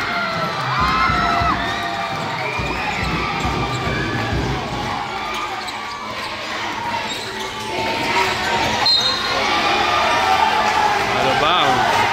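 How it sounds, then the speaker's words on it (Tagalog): A crowd cheers and shouts loudly at a youth basketball division meet qualifier, with children's screams and whoops rising in waves, a ball bouncing, and a commentator talking over the steady roar. "Nagwawala yung crowd."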